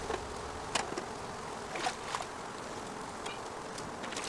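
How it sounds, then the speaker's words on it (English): Honeybees buzz at an open hive as the keeper smokes them down, a faint steady hum with a few brief louder passes of individual bees flying close. "Just gonna smoke the bees, get them to go down"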